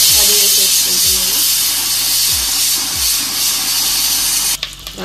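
Whole spices (cinnamon, cloves, cardamom and shahjeera) hit hot butter in a pan and give off a steady, close sizzle and hiss lasting several seconds, with a voice talking faintly underneath.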